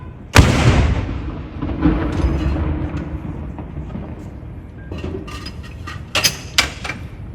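Royal Artillery guns fire a ceremonial salute at Edinburgh Castle for the King's birthday, a loud booming blast that rolls and echoes, with distant crowd noise and further sharp reports toward the end.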